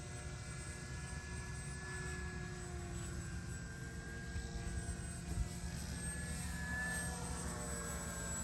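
A BlitzRCWorks Cessna 182 trainer RC plane flies at about 60% throttle outdoors in light wind, its electric motor and propeller giving a steady, continuous buzzing drone at moderate distance, holding even level throughout with no talk.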